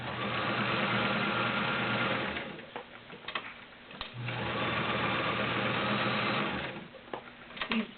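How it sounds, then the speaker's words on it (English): A Kenmore 1753 heavy duty sewing machine stitches through thick layers of denim, a steady fast mechanical whirring hum in two long runs with a brief pause and a few clicks between them. "This machine is very capable. Doesn't even act like it's sewing anything other than 2 layers."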